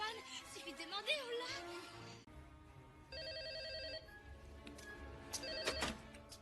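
Telephone ringing in a dubbed French Jurassic Park scene remade with figurines, a repeated electronic ring appearing mid-clip amid music and sound effects, with voices speaking around it.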